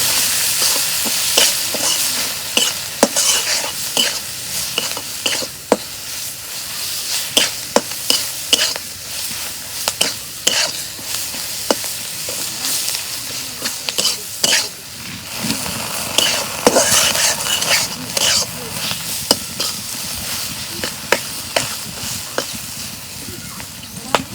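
Spice paste with turmeric, dried fish and salt being sautéed in a pan, loud sizzling under repeated sharp spatula scrapes and knocks in an irregular rhythm, close and continuous throughout.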